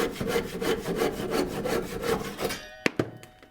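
Handsaw cutting through a chestnut branch to square its rough ends: steady back-and-forth rasping strokes, close and loud, ending with a couple of sharp knocks.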